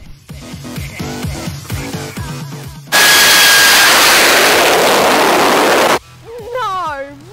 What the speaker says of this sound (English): You're about to see a jet engine out the back of a van.